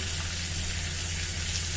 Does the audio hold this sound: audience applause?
no